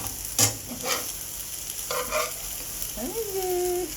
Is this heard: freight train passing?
no